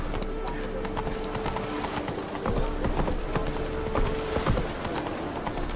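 Roach the horse galloping in The Witcher 3: Wild Hunt, a steady stream of hoof clip-clops over a soft ambient bed with occasional louder hoof strikes, at moderate level.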